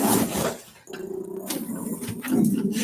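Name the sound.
dog barking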